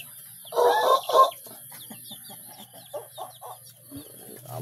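Tilawak rooster named Tarsong giving a loud throaty crow-like call followed by a string of softer clucks and chatters, close by, with a faint high background whine.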